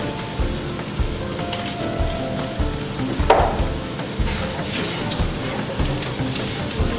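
Onions coated in Cajun seasoning are stirred in a frying pan, a steady close sizzle with scattered scraping and clinks from the utensil throughout.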